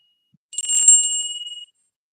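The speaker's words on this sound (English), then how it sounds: "Ring of the bell, my friend." A single bright ring of a small bell, clear and close, lasting about a second before fading into silence.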